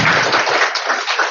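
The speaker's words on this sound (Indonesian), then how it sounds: "Tepuk tangan." An audience at a mosque takmir guidance session claps together in a brief, steady patter of hands, fairly loud and close, with no talk over it.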